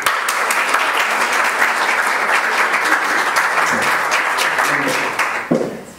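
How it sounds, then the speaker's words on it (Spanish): A conference audience gives a speaker a steady, loud applause for about five seconds, with dense even clapping that then tapers off and stops. "Un aplauso para él."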